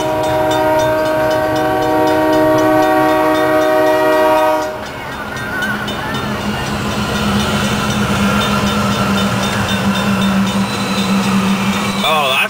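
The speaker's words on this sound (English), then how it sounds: "Go train!" A freight train with tank cars passes close by, a loud steady rumble with sustained horn-like tones for the first half, then a rattling, clattering roll of wagons continuing to the end, with speech-like sounds mixed in.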